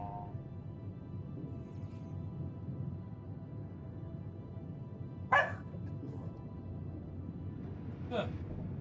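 A dog in the video game The Alters gives two short, sharp barks a few seconds apart over a steady low ambient hum.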